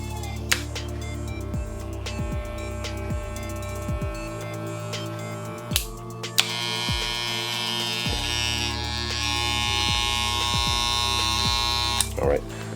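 Electric hair clippers bought from Walmart run with a continuous buzzing drone, broken by small clicks and knocks as they are handled, with the tone brightening partway through.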